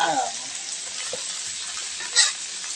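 Ivy gourd leaves stir-fried with lemongrass in a hot pan give a close, steady sizzle with stirring scrapes, and a brief louder clatter near the end.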